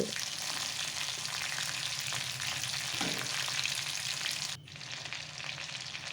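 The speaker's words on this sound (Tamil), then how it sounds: "சிக்கன் வறுத்துக்கிட்டுருக்கேன்" Chicken fries in a pan at a village cookout with a dense, continuous sizzle and crackle, the steady hiss dipping slightly near the end.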